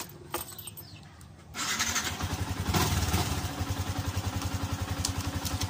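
Yamaha Sniper 150 motorcycle with an alarm system fitted, starting remotely: a short clattering crank and catch, then a close, steady pulsing idle.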